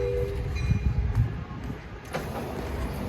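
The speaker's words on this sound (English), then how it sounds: "Here's the other train at this train meet." An Amtrak California Surfliner passenger train rolls past at Fullerton Station, its steady low rumble and wheel noise holding close and loud throughout, with a brief swell of wind or passing-car noise partway through.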